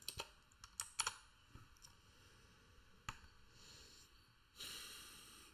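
Someone types on a computer keyboard, a few scattered quiet key clicks in short bursts with pauses between, followed by a soft rustling swell.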